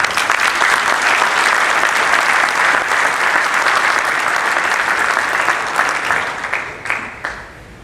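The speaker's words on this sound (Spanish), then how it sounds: "Recibamos con un fuerte aplauso y démosle la bienvenida a don José Ramón Valente." A conference audience gives sustained, dense applause to welcome José Ramón Valente, loud and even throughout before thinning into scattered claps at the end.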